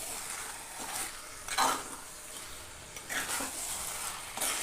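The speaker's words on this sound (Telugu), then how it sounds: "ఇప్పుడు చికెన్ని వేసిన తర్వాత మొత్తము మిక్స్ అయ్యేలా కలుపుకోవాలి" Chicken frying in a pan while being stirred, a soft sizzle under repeated scraping strokes that come in bursts every second or two.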